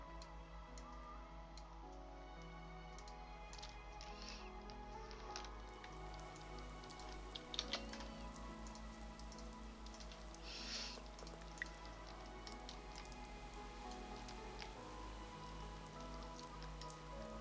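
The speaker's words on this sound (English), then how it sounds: "Rain here is not bad." Steady rain falls in the golf video game Shot Online, a soft, continuous patter of drops with a low hum beneath, fairly quiet and unbroken.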